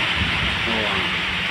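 Heavy rain pours down in Kuching, a dense, steady hiss of falling water heard continuously and up close.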